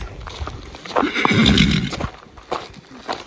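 A horse whinnies loudly and close by, a single drawn-out neigh with soft hoof clops around it.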